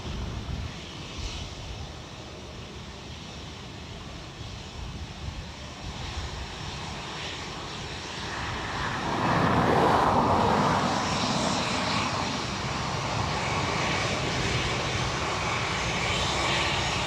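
A Netherlands Air Force C-130 turboprop transport landing at Dublin Airport, its engine roar steady and distant at first, then swelling louder and closer midway before holding a broad, rumbling drone with light wind noise.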